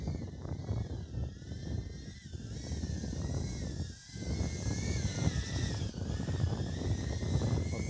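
An HGLRC Motowhoop 90 HD FPV drone flies outdoors in strong wind, its small motors giving a steady high-pitched whine that rises and falls with throttle changes and briefly dips, heard close with wind rumble underneath.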